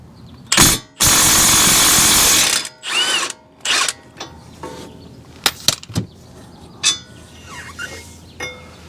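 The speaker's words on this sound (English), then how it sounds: "Let's see if we can get these out with the Milwaukee mid torque here." A Milwaukee mid-torque impact wrench works brake bracket bolts loose on a Ford Escape's front brakes, firing a short burst and then one long, loud hammering run, followed by scattered metallic clinks and clatter of parts nearby.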